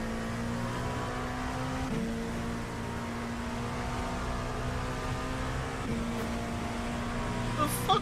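GT3 race car engine in the iRacing sim at Spa, a steady sustained drone with a brief dip in pitch around gear shifts, running continuously under occasional background talk.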